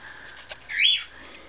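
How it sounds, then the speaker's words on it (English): Cockatoos in a large cage give a brief, shrill squawk that rises and falls within a second, followed by quiet background hiss. "There's our new cockatoos. In with our other cockatoos."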